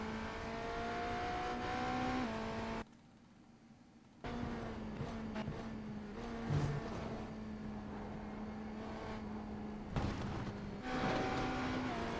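A race car engine revs and accelerates on the Daytona road course in a racing video game, a steady, buzzing drone that cuts out briefly, then resumes and climbs again.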